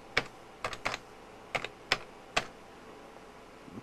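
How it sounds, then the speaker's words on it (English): Keys on a 1997 computer keyboard are struck while a password is typed, six sharp clicks in an uneven rhythm, close and clear against a quiet room. "Now I've got to type in my password again and log on to Windows"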